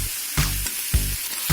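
Prawn curry with sesame-flour tempering sizzles loudly in a pan, with regular scraping strokes of stirring about every half second over the continuous frying hiss.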